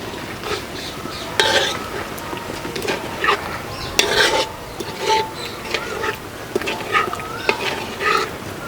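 A spoon stirring Mughlai egg curry topped with coriander in a pan, with repeated scraping and clinks against the metal over a soft sizzle, moderately close and without talk.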